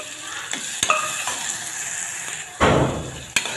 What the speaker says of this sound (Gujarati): ત્યારબાદ થોડું હિંગ નાખીશું અને બેથી ત્રણ ડુંગળી ઝીણી સમારી લીધી છે એ ઉમેરીશું